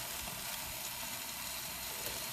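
Chicken sears in a hot pan for a keto-friendly dinner, giving off a soft, even hiss of crackling fat that holds steady throughout, fairly quiet, with no voices.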